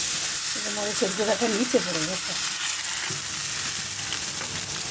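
Onion, green chili, salt, garlic paste, turmeric, chili powder, coriander and cumin frying in oil, a steady close sizzle throughout, with a voice talking over the first half.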